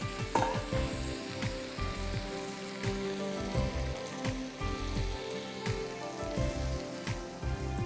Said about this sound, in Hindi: अब इसमें हम डालेंगे ये बीन्स, जो फलियाँ आप काट के धो के अच्छी तरह रखी थी वो, और थोड़ा सा स्टॉक हम डालेंगे पहले।